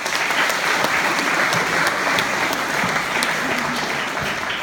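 Sustained applause from a live audience at a hypnotist comedy show, dense steady clapping filling the whole stretch without pause, loud and close.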